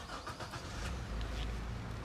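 A Toyota Land Cruiser Prado VX engine starting up, a steady low mechanical rumble settling into idle, close and fairly quiet, with no talking.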